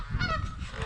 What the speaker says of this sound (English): Those geese are not happy with River over there